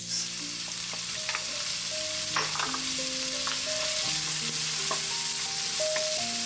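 Onions sautéing in a pan for a Filipino pork siopao asado filling, a dense continuous sizzle with faint stirring taps and a few brief tonal clinks in the background, no speech.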